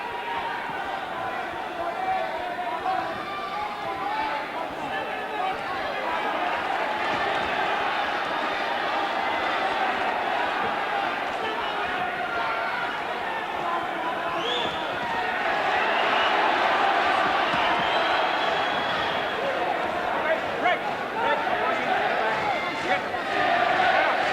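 A boxing crowd in a world title bout between Fidel Bassa and Dave McAuley roars continuously, a dense far-off wall of cheering and shouting that swells louder midway, with a commentator talking over it.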